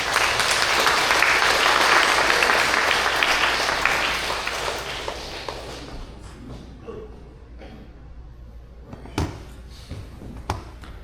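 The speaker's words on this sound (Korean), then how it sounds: "박수 부탁드리겠습니다" Dense applause from a crowd in a church hall welcoming a lawyer's talk fills the first half, then fades into scattered claps, shuffling and a few knocks.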